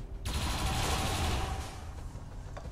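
Gunfire in XCOM 2 erupts abruptly, a loud sustained burst of rapid shots that rings on and fades into a reverberant tail, with a sharp final crack near the end.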